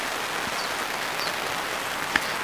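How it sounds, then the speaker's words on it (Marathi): Light drizzling rain falls outdoors as a steady, soft hiss of fine drops, continuous and fairly quiet, with one small tap near the end and no voices. "लय जोरात पाऊस नाही, नॉर्मल आहे, झिमझिम म्हणून भिजायला लागले ते"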